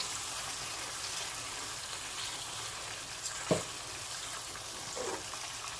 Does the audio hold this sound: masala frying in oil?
yes